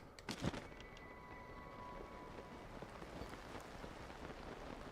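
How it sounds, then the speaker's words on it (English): Steady rain patter in the video game Zelda: Tears of the Kingdom hisses throughout, with a few brief louder knocks near the start, no voices. "It's raining."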